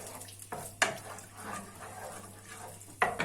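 Tomato paste frying in oil in a pan, a soft crackling sizzle with a few sharper clicks and stirring scrapes at intervals, fairly quiet and close.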